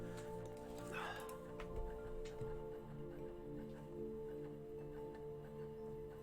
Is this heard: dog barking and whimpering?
yes